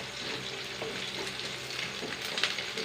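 Onions and curry leaves sizzle steadily in a hot pan with a soft, even frying hiss and occasional faint stirring clicks, close by and without talk.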